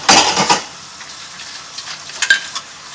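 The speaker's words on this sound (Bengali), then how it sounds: "আমার থালা বাসন মাজা হয়ে গেছে এখন ধুয়ে নিচ্ছি" Washed dishes and pots are rinsed under running water in a home kitchen, with a busy burst of splashing and clattering at the start, then quieter trickling and a few light clinks.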